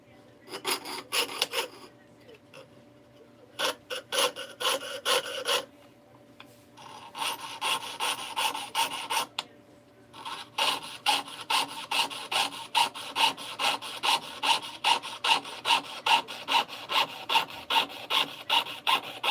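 A hand saw rasps rhythmically through wood while cutting a spoon, in bursts of back-and-forth strokes, pausing briefly between sets, then settling into a steady, faster cutting rhythm.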